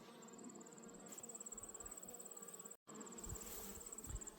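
Honeybees buzzing around a hive at an apiary, a faint continuous drone with a steady high whine running throughout and a brief dropout partway through.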